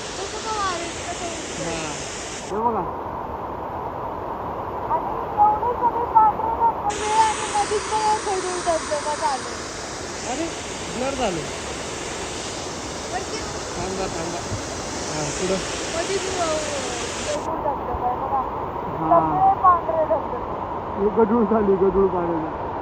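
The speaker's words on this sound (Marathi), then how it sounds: "असे बारीक बारीक झरे चालू झालेले आता शिकतो हा छोटा झरा आहे" A small mountain stream of water near Bhandardara rushes steadily as a broad, continuous wash; its hiss swells louder in stretches while people talk over it throughout.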